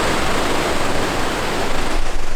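Waterfall pouring down over mossy rock on a hiking trail, a steady, loud broadband rush of falling water close to the microphone with no speech.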